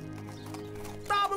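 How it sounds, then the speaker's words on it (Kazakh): A cartoon horse gives a brief, bright whinny near the end after a low, murmuring stretch, loud and close for a fraction of a second. "Түгелдей кісінейік."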